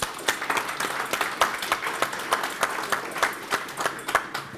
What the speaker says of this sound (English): please clap to thank them for their support